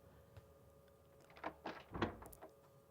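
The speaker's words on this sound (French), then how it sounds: "Et la porte s'ouvre." A door opens in the survival horror game Rule of Rose, with several soft mechanical clunks and a creak-like burst in a quiet, hushed room tone.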